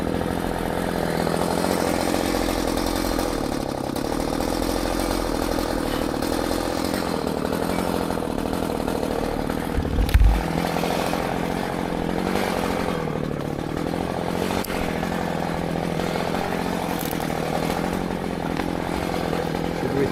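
Chainsaw cutting into a tree on a farm, a continuous loud buzzing drone that holds steady for a long stretch, with a brief thump partway through and no talking.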